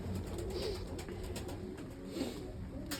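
Several white pigeons coo nearby in soft, repeated throaty calls over a low background hum, overlapping at an unhurried pace.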